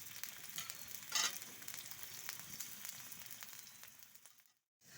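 Onions frying in ghee in an iron wok, a faint, continuous crackling sizzle with a brief stirring rustle near the start, cutting out to silence just before the end.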